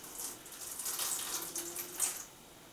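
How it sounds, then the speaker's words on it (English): About 50 grams of water poured into a clay-like tiger bread dough mixture, a brief soft splashing trickle lasting a couple of seconds, fairly faint and close. "I'm going to add about 50 grams of water."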